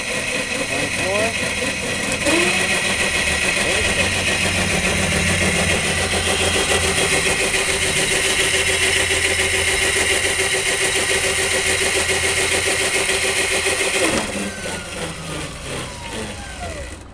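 A homemade electric vehicle's motor runs steadily on its first test drive, a loud continuous whine and hum holding for about fourteen seconds before easing off, with faint talk near the start.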